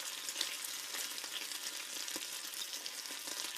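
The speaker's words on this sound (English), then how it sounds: "if that sizzling sound made your mouth water" Bacon frying with a steady, dense sizzle and scattered pops and crackles, continuous and close for a few seconds with no voices.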